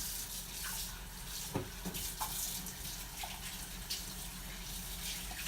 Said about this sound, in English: I'm just rinsing off my hands real quick